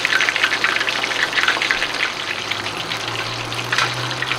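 Flounder fillets frying in hot oil over medium-high heat, a steady broadband crackle and hiss that stays fairly even throughout with a low hum underneath and no talking.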